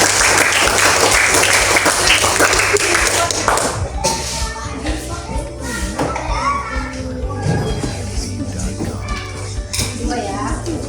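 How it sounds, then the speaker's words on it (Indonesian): Classroom applause from children in a primary school lesson, a dense burst of clapping for the first four seconds, then thinning into scattered claps under children's chatter and voices. "Oke, tepuk tangan."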